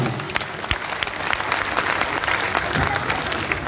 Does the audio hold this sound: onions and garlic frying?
no